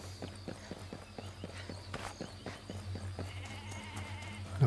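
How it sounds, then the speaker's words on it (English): Sheep bleat in the open countryside of the video game Ghost Recon Breakpoint, several animal calls over a steady low hum and a soft rhythmic ticking, moderately close. "Lots of sheep."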